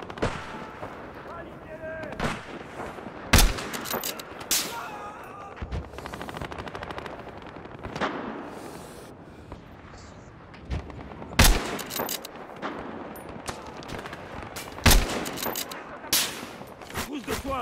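Gunfire and sniper shots ring out in the online shooter Battlefield Heroes, sharp loud cracks striking at irregular intervals amid a dense rattle of smaller shots, with players' voices talking over the battle.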